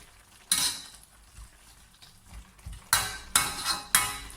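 Yard long beans are stir-fried in a pan, with a spatula scraping and clattering against the metal in a few loud, irregular bursts over a faint background sizzle.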